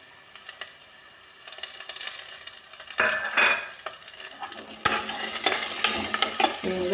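Slit green chillies dropped into a pan of simmering, frying fish curry, giving a steady sizzle with stirring and clinks of utensils, louder bursts near the middle and end.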